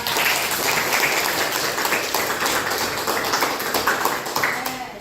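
A class of students in a school classroom breaks into loud, dense applause that carries on steadily throughout, with a few voices audible under the clapping.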